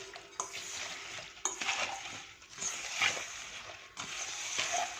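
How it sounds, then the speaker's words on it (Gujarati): Chillies for a traditional Gujarati pickle being mixed with split mustard and fenugreek seeds, a spoon stirring and clinking against the vessel in a few close, uneven rustling sweeps. "તો આપણે રાઈ અને મેથીના કુરિયા બધા જ આની અંદર એડ કરી દીધા છે. હવે આને આપણે એકવાર હલાવી લઈશું."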